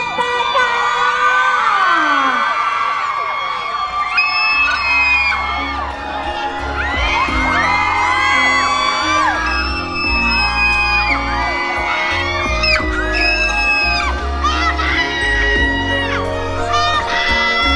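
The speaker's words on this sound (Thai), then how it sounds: "ขอเสียงกรี๊ดดังๆ" A crowd at a Cathy Doll cosmetics brand event in Ubon Ratchathani, Thailand, screams, whoops and cheers loudly for a singer's arrival, with high-pitched shrieks, scattered yells and music beginning underneath.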